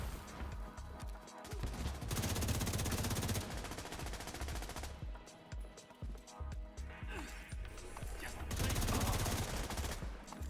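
Loud automatic gunfire in a first-person shooter game during a raid, sustained close-range bursts separated by brief lulls, with other weapon noise clattering throughout.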